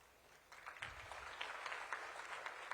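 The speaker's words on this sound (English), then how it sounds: "You can applaud more because this is just a mark of beginning." An audience claps at a biotechnology sector pre-Vibrant summit in Gujarat. The applause starts softly, swells into steady clapping and holds there, heard from a distance at low level.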